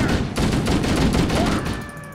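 A turret in Halo: Combat Evolved fires a rapid, loud stream of shots, steady rattling bursts lasting about two seconds before tapering off.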